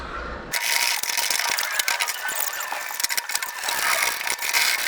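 A ratchet clicks rapidly in bursts while tightening the seat bolts on a VW Baja Bug off-road seat install, a close, crisp metallic chatter of irregular strokes with no talk.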